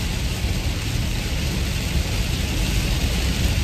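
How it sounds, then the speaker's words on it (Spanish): Heavy rain pours down in a dense, constant roar of broadband hiss, loud and unbroken, with no voices. "Está lloviendo muchísimo, mi gente. No sé si ustedes pueden escuchar la lluvia"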